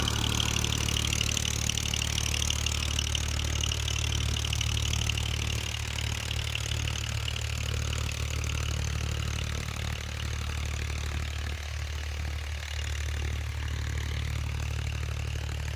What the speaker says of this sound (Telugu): ఇదే హెవీ మోటార్ అండి, డబుల్ ఇంజిన్ మోటారు.